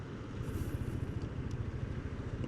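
Honda ADV 160 scooter engine running at a steady, low idle rumble with a fairly loud, continuous pulsing throb and no speech over it.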